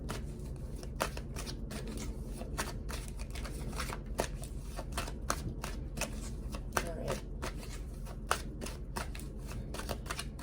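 A tarot deck is shuffled by hand in a continuous rapid riffle of crisp card flicks and slaps, close and steady, with a voice talking over it.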